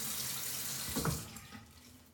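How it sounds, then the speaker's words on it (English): A bathroom tap is left running into a sink during a wet shave, giving a steady, fairly faint rushing hiss with a brief splashy swell midway. "I need to leave the water on."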